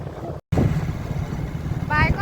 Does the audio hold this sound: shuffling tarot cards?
no